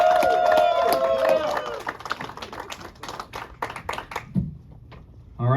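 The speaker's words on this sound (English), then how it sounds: "Give him a round of applause." Audience applause and scattered clapping for a stand-up comedian at a comedy show in Calgary, starting over a host's voice and music, then thinning into loose claps before fading out.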